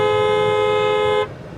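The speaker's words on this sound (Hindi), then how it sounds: "हमारे ड्राइवर साहब मुस्तकिल हॉर्न बजा रहे हैं" A bus driver sounds the horn on a highway coach journey from Bahawalpur to Sadiqabad, one loud sustained toot held for over a second before cutting off, leaving low road rumble.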